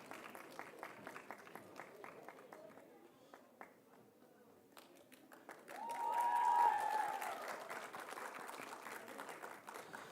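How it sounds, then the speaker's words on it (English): An audience at a school Model UN opening ceremony breaks into applause, a soft patter of clapping that swells to a fuller burst midway, then tapers back to scattered claps. "Let's give him a big round of applause."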